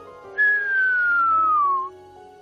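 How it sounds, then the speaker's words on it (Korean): A whistler radio signal made by lightning: one clear, loud descending tone that glides smoothly downward for about a second and a half before cutting off, over a faint background hiss. "이건 휘파람 부는 사람이라고 불리는 신호인데 번개가 만드는 작품입니다."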